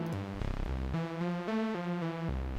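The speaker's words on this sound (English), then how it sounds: "It sounds like this without the effects." A plain, dry synth arpeggio with slightly detuned oscillators and no effects steps through short repeating notes in a quick rhythm, the pattern shifting pitch a few times, no talking.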